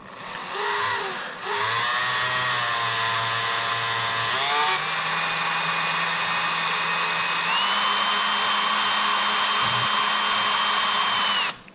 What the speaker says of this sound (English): I guess I'll start drilling my hole and try not to F things up.